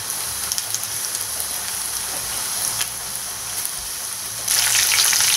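Coated chicken pieces fry in a pan of hot oil, giving a steady crackling sizzle with scattered pops that swells louder toward the end, close up and without talk.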